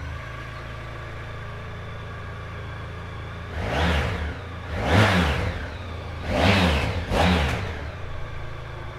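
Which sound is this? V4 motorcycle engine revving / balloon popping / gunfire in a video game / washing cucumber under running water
V4 motorcycle engine revving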